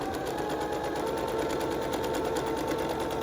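A sewing machine runs steadily through the fabric of a filtered mask, giving an even, close mechanical whir with a rapid stitching pulse and no pauses.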